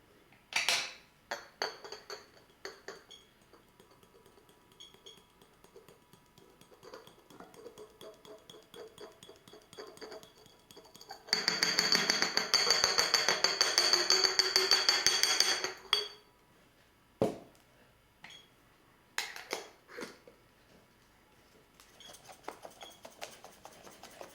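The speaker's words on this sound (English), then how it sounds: "This kalium hydroxide we mix with the Decomix." Potassium hydroxide stirred with Decomix in a container gives scattered scraping, tapping and clinks, then a loud, dense burst of vigorous mixing in the middle before it drops back to sparse knocks. No one speaks.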